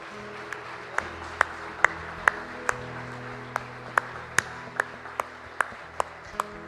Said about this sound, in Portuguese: Então aplauda o Senhor Jesus Cristo